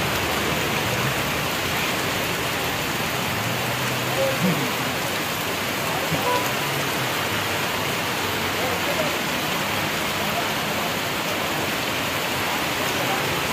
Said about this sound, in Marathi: आळेफाटा परिसरात जोरदार पाऊस.